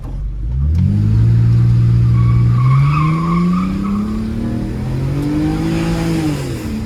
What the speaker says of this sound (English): First time a burnout is actually working. I'm not sure if one tire was spinning or what